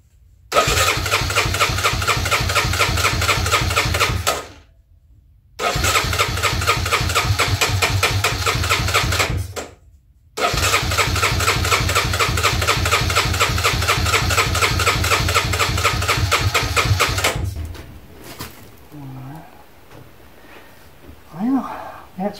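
A Honda Fourtrax ATV engine, still on choke, catches and runs loud and close in three long bursts separated by brief stops, then cuts out and leaves quieter rustling and handling noises with a few voices.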